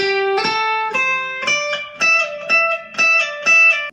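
Electric guitar picking a short melodic phrase of distinct, clean-attacked notes, each stepping to a new pitch without sliding, close and clear.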